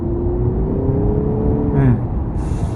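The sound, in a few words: hybrid car engine revving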